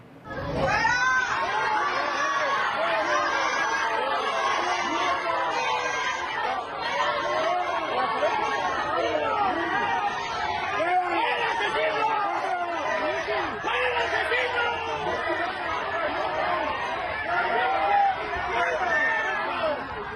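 Mourners at the funeral of Carlos Manzo in Michoacán shout complaints and jeer at Governor Alfredo Ramírez Bedolla: a dense, loud crowd hubbub of many overlapping voices that holds steady for about twenty seconds.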